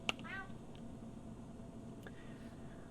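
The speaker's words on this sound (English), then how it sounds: "That's a nasty cat." A short, rough cat meow sounds right at the start, followed by faint background hiss and a soft click.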